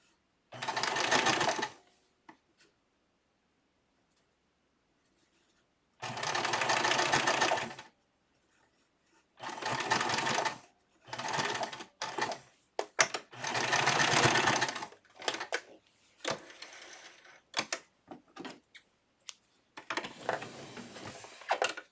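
A sewing machine stitching doll clothes runs in close bursts of steady whirring, stopping and starting several times, with quiet handling clicks and rustles in the pauses and no talk.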